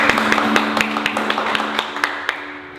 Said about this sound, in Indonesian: Kita kasih tepuk tangan dulu buat Tuhan Yesus.